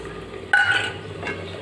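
Whole cumin seeds drop into hot oil left in a kadai after frying pointed gourd. A sudden close sizzle bursts up and keeps hissing, with a second flare a moment later.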